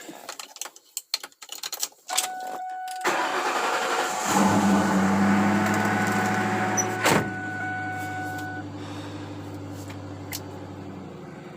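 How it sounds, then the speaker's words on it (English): A 1981 Monte Carlo with a 355 engine starting cold: starter cranking and a few sharp clicks, then the engine catches and settles into a steady, loud idle, close by, with no talk. "maybe we'll do a few cold starts or something"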